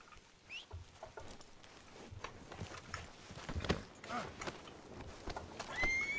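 A horse in the Western roleplay game RedM gives a faint whinny among soft, irregular hoof clops and rustling, at low volume with no talk.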